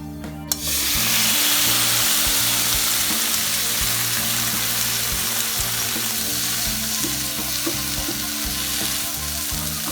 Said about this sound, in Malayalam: ഇനി നമുക്ക് വേവിച്ച് വെച്ചിരിക്കുന്ന കൂർക്ക ഇതിലേക്ക് ചേർത്ത് എല്ലാം മിക്സ് ചെയ്യാം.